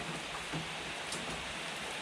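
Steady rain pours during the rainy season, a constant close hiss of drops on surfaces with no pauses and no voices.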